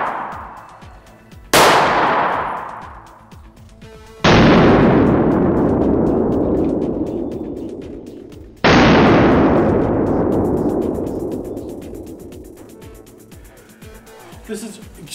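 Three loud 9mm gunshots strike an armor panel, each a sharp crack with a long ringing decay, spaced a few seconds apart, with faint voices between.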